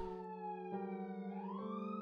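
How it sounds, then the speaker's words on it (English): Police sirens in the Minecraft video game, a steady electronic wail with stacked tones that sweep upward partway through, sounding alone at moderate level with no voices. "Oh dear, I'm hearing police sirens."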